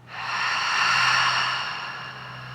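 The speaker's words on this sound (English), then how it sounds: "And then I'm going to exhale from the bottom up." One long, slow exhale from diaphragmatic breathing with a rib-cage focus. It is a soft, breathy rush of air close to the mic that swells and then fades over about two seconds, with a faint hum underneath.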